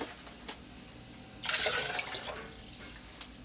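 Tap water pouring into a large pot for mac and cheese, a sudden loud splashing gush that starts midway and settles into a steadier running stream.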